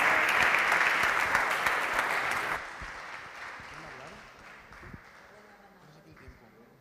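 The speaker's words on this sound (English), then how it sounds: "We clap for them" Audience applause for a hackathon team at a port challenge event, dense and loud at first, then cutting down after about two and a half seconds to a thinner scatter of claps that fades out.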